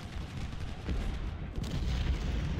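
Musket and cannon fire pours into a melee on an American Civil War battlefield in Ultimate General: Civil War, a rumbling, crackling barrage of overlapping shots with deep booms that swells slightly louder toward the end.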